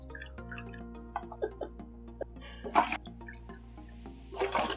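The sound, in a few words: warm water poured into slime kit base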